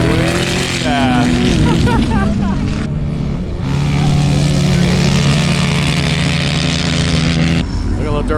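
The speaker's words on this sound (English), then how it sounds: "Look at little dirt bikes coming through." Dirt bikes racing past in the Glamis sand dunes, loud close engine whines rising and falling as they pass, with people talking over the roar.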